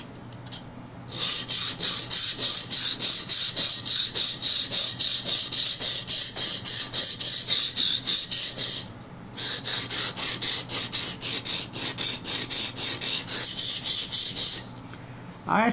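A steel blade is honed on a sharpening stone with steady back-and-forth rasping strokes, rapid and rhythmic, close and fairly loud, pausing briefly once midway before resuming.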